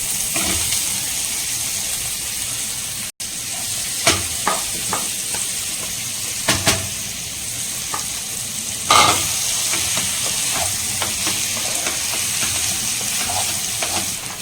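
Fried chicken pieces dropped into a hot pan of sauce sizzle steadily, with a continuous bright hiss broken by several sharp scraping stirs of a spatula, close and loud, no talking.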